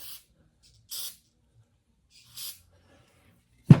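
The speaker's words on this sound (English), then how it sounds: "Put a little silicone spray in there." Short bursts of silicone aerosol spray hiss three times with pauses between, ending in a sudden knock, while fitting a VW Beetle gas tank.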